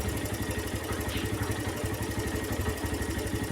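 Suzuki Thunder 125 motorcycle engine idling at about 1200 to 1500 RPM, a steady low rhythmic putter with even pulses, close and continuous with no talk.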